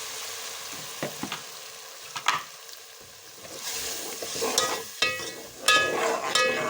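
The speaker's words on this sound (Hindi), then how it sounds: "और इसको अच्छी तरह प्याज के साथ फ्राई कर लेंगे।" Garlic ginger paste and onions sizzle and fry in a pan, with scraping stir strokes and light clinks at irregular intervals, close up and with no talking.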